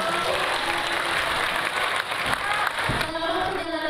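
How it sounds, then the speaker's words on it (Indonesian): A crowd claps in dense, continuous applause that holds steady for several seconds, with faint voices mixed in. "Tepuk tangan dulu buat saya."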